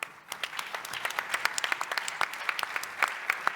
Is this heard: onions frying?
no